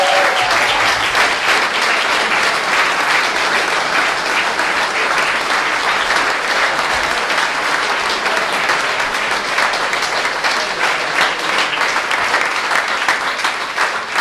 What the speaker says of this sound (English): can you round of applause now for our 6 finalists